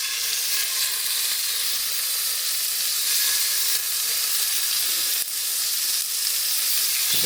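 Rump steak pieces frying in a hot pan, a loud continuous sizzle and hiss close by, with a few brief clicks and shifts of the pan and no talking.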